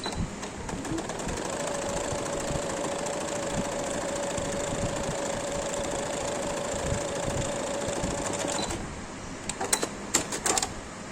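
A sewing machine runs in one steady, fast whir while stitching gathers along the lower edge of a cotton baby frock for a toddler, then stops, and a few sharp clicks and taps follow near the end.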